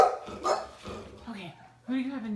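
Australian Labradoodle puppies and their mother making short yips and barks at close range, mixed with a voice talking to them during playtime.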